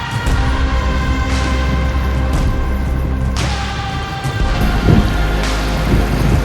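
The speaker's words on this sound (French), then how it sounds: "Waouh, c'est la tempête de neige." Strong snowstorm wind roars steadily around a cyclist touring the Baltic countries in a late spring snowfall, with gusts swelling and buffeting the bike throughout.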